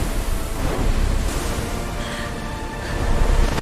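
Sea storm waves crash and churn around a ship, a loud, dense roaring wash of noise that swells and rumbles steadily throughout without any voices.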